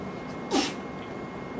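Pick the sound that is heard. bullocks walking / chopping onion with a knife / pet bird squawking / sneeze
sneeze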